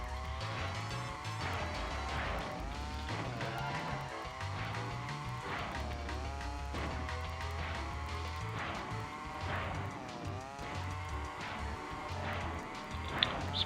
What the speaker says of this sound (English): Surprised any of these carts have any tyres left after all the skidding they're doing.